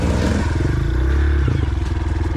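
A Honda CRF230F dirt bike on a rocky trail runs close and loud, its engine chugging and revving unevenly as the clutch is slipped for a tight turn, with clattering and scraping over the top.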